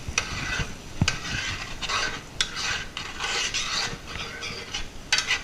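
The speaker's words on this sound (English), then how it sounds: "Stir them right up in there. Getting all them bits up off the bottom." Chicken leg quarters are stirred in a pan, a spoon scraping browned bits off the bottom in repeated close strokes over a faint sizzle.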